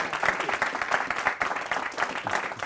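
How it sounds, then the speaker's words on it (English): An audience at an evening startup meeting in Chilliwack applauds steadily, a dense patter of clapping lasting a few seconds without a break. "let's have a round of applause for Steve Hamilton Clark"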